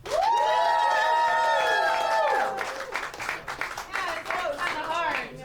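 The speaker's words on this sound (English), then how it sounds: "Make some noise if you think it's Matt" Audience at a New York roast battle comedy show erupts in loud cheering and shouting with clapping, sustained and close throughout, as the crowd votes for a battler.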